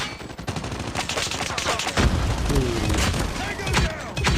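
Dense, loud gunfire from the mobile shooter Call of Duty Mobile, rapid overlapping shots and booming impacts filling the whole stretch, with a voice talking underneath.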